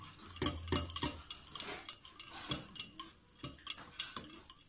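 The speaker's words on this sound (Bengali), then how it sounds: "1টা হ্যান্ড হুইস্ক দিয়ে এগুলোকে যতক্ষণ মিহি একদম মিক্স না হবে ততক্ষণ নাড়ব" A hand whisk stirs molasses batter in a bowl, quick rhythmic metallic clicks and scrapes against the bowl repeating steadily at close range.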